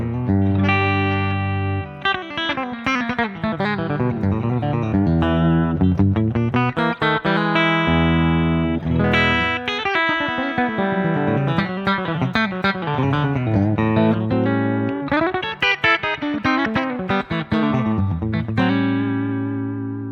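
An electric guitar playing a continuous melodic passage through a 212 Blonde 63 amp, miked with a condenser microphone, bright and loud with a reverb tail on the notes.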